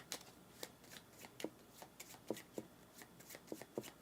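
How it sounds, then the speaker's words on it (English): A deck of cards being shuffled at a tabletop board game session, with a steady run of crisp riffling bursts and soft flicks, close and fairly quiet, with no talking. "We'll just go ahead and give it another shuffle real quick."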